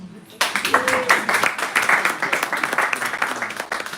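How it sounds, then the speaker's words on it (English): Applause breaks out suddenly and keeps going as a crisp, fairly close crowd clapping. A voice briefly trails off at the start before the clapping takes over. "Applause"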